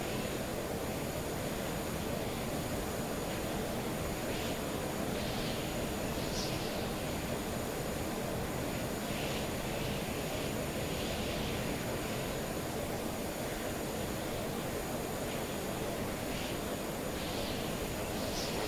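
A large plane drones steadily in the game Stormworks, its broad, even engine roar holding at the same level throughout with no other sounds over it.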